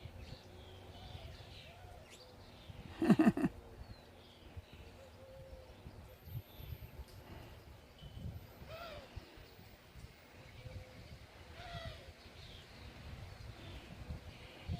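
A bird calls outdoors on a rainy day, with scattered chirps and a few louder calls heard at a moderate distance over faint background noise.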